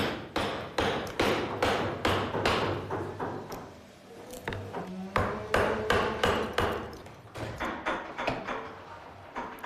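Steady, repeated mallet blows striking a carving chisel into wood, close and loud, with a brief pause midway before the knocking resumes.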